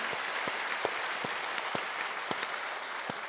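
A church congregation applauds the choir and its conductor, producing a dense, steady wash of many hands clapping throughout, with a few sharper claps standing out, moderately loud and without talk.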